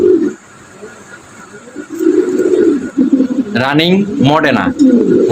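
Running Modena pigeons coo in soft, throaty bursts nearby, while someone talks steadily over them.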